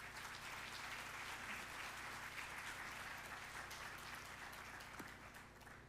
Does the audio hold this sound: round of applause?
yes